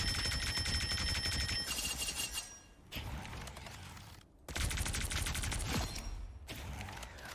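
Rocket Raccoon's rapid gunfire hits Hulk in the video game Marvel Rivals, dense bursts of automatic shots with mechanical clatter, broken by a few short pauses between volleys.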